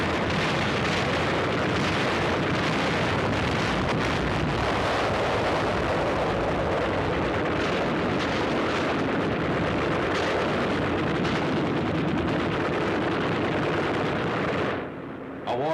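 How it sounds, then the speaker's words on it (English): Naval guns bombard a beach in archival war footage, producing a dense, continuous roar of blasts and rumbling detonations that stays loud throughout and cuts off abruptly at the end. "Naval bombardment of the beach area continues, augmented by an intensive close-in cover barrage delivered by LCIs."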